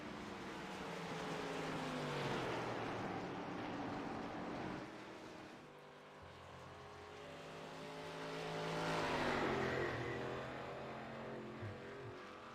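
Race cars in a Gateway 150 event roar around the track in two broad swells, passing close and loud and then fading, with a steady engine drone between the passes.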